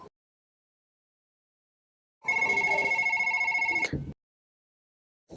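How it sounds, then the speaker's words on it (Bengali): A telephone rings for an incoming call: one continuous electronic ring burst of about two seconds, clear and close, between stretches of silence. "আবার কল আসছে ওতে"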